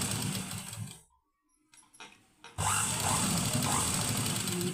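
A sewing machine stitching wide lace onto a round-neck blouse, running in a steady close whir, pausing briefly with small clicks, then starting up again at full speed.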